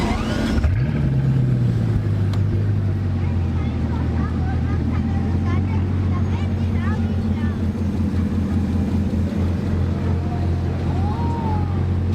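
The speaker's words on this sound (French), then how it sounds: "aura le démarrage de la Chiron" A Bugatti Chiron fires up on a street in Monaco with a sharp engine catch and rev, then settles into a deep, steady rumble, close and loud, amid street noise and voices.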